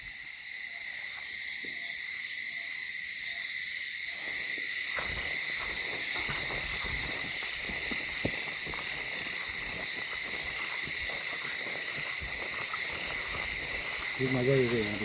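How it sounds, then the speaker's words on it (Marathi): Frogs croak at night by a stream at the start of the monsoon rains, a dense, loud, unbroken chorus that fills the whole stretch with a rhythmic throbbing texture. "रात्रीचं वातावरण, बेडकांचा आवाज वगैरे भरपूर आहे"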